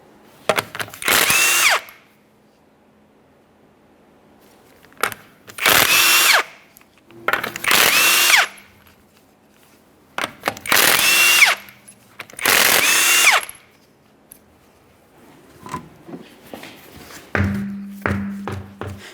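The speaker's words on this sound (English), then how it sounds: "remove all 5 of your 21mm lug nuts and then you can pull the wheel off of here" Pneumatic impact wrench spinning off the 21mm lug nuts on a 2011-2020 Toyota Sienna rear wheel, heard as five loud, separate bursts of rattling hammering with short gaps between them, followed by quieter clanks and a low hum.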